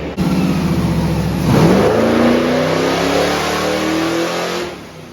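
Big block truck engine with a four-barrel carburetor revving hard through a power pull, a loud rising roar that climbs steadily in pitch, sustained close up for about five seconds, then eases off at the end.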